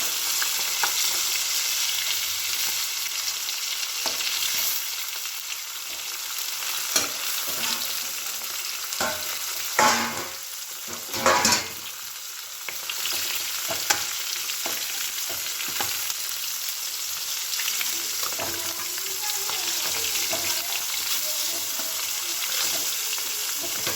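Spice paste for a fish curry fries and is stirred in a pan, with a continuous close sizzle and repeated scraping and clinking of the spoon, largely free of talk.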